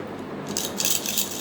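A small bell or rattle shaken in a sound-guessing game, giving a faint, thin metallic jingling that swells in brief bursts over about a second and a half, with no voices.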